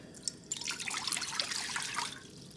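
Water splashes and trickles into a pan for a couple of seconds, a bright, close pouring sound with no talking, about three cups for Korean army stew.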